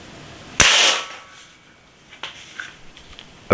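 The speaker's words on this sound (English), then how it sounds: "let's do one more shot just to make sure I got the hang of this thing" A single sharp crack from an Umarex Syrix .22 caliber pellet rifle, close and loud, fading quickly into a quiet outdoor background with faint small clicks afterward.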